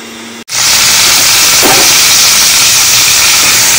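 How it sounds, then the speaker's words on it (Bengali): A mixer grinder grinds tomato, green chili, coriander leaves and a little cumin and coriander powder, kicking in abruptly after a short pause and holding a loud, steady, close whirring roar. "এদিকে মিক্সারে আমরা আমাদের মশলা রেডি করে ফেলবো"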